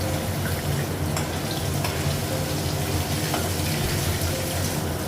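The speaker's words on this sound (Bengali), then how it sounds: "আর মাছটা ভাজা হয়ে গেছে, উল্টে দেবো।" Fish frying in a pan on a home gas stove, a steady dense sizzle of hot oil that runs continuously at close range with no talk.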